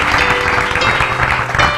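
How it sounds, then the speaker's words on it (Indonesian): Studio audience applause on an Indonesian TV talk show, a loud, continuous wash of clapping with a low hum underneath, filling the short moment without any speech. "Tuh tepuk tangan dong"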